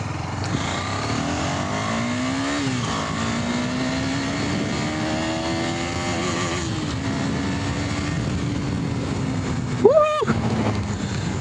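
A KTM Duke 250 BS6 motorcycle accelerates through the gears, its engine note climbing steadily and then dropping at each shift, loud and close throughout, with a brief sharp rising whine near the end.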